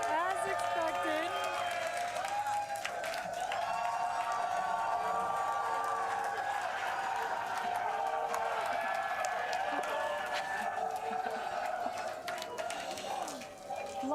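Crowd at SpaceX Hawthorne cheering and applauding during a Starship launch watch, a steady wash of claps and shouts with talk over it.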